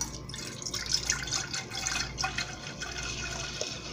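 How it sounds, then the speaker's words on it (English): Apple cider pours steadily into a cooking pot for boiling potatoes, a continuous close splashing trickle of liquid lasting the whole moment with no talking. "So we're gonna pour our apple cider in our pot"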